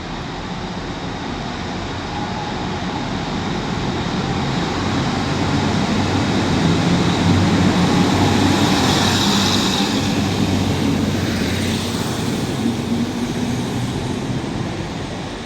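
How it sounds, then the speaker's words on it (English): A Northern diesel train pulls out of Manchester Victoria bound for Stalybridge, its broad engine rumble and rolling noise building steadily and holding loud and near for the whole stretch with no talk. "Departs Manchester Victoria now with the 1350 Northern service to Staley Bridge"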